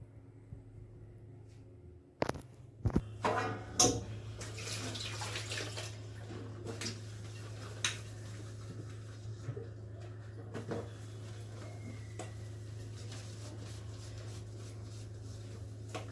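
Dishes and pots being washed by hand under a running kitchen tap, a steady close stream of water with scattered clinks and knocks of utensils, no talking.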